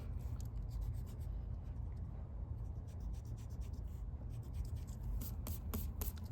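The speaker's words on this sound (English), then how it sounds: "I'm just gonna go through now and erase that skinny line in the middle" A pencil eraser rubs back and forth over paper, quick scratchy strokes repeating in bursts, close and fairly quiet, with no voice.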